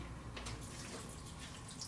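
Fuel pours from an injector rail pulled during a swap to FIC 105 lb injectors, a soft continuous trickle and splash of liquid that stays steady and faint.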